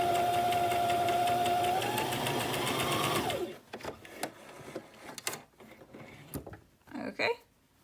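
A sewing machine stitches through a flat-pressed seam allowance with a loud, steady mechanical whir lasting about three seconds, then stops, leaving soft handling noises and fabric rustles.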